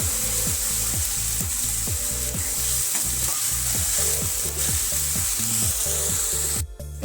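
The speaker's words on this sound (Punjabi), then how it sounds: "ਤੇ ਹੁਣ ਆਪਾਂ ਪਿਆਜ਼ ਪਾ ਦਵਾਂਗੇ ਪਿਆਜ਼ਾਂ ਨੂੰ ਆਪਾਂ ਹੁਣ 5 ਮਿੰਟ ਵਾਸਤੇ ਪਕਾ ਲਵਾਂਗੇ" Onions frying in a pan for chole bhature, a loud, continuous sizzle with rhythmic scraping strokes of a spoon stirring through them, close up and without speech.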